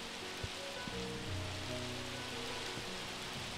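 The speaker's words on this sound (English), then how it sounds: "The question is it a thunderstorm? Or is it just simple rain?" Steady rain falls in Minecraft, a soft even hiss of drops on surfaces with low background tones and a few faint bumps, no voices.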